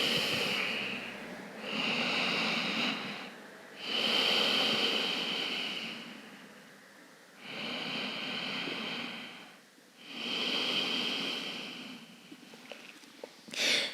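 Slow, deep breaths during a beginner yoga flow in child's pose, about five long airy swells of breathing in and out, close and soft, with brief quiet gaps between them.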